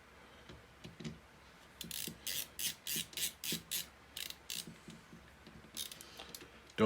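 Parts of the latching system on a First Strike Roscoe slide back into place with soft clicks and a rapid series of ratchet-like clacks, close up and quiet.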